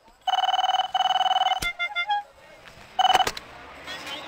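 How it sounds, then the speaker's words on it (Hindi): A telephone rings in trilling electronic bursts during a call in a 1999 Hindi film. Two long rings are followed by a short string of dialing beeps, then one more brief ring, all fairly loud and close. "जर्मन ने कर्जे के लिए फोन किया साला।"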